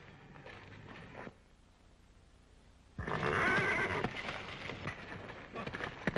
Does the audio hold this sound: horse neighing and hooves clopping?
yes